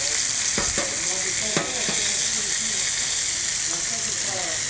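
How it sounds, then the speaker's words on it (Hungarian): Trout fillets sizzle in hot fat in a pan, a steady broadband frying hiss with occasional clicks and sharp crackles from the turned fish, close and continuous with no talk. "Közben átfordítjuk itt a halacskát, hogy a másik fele is próbáljon sülni egy picit."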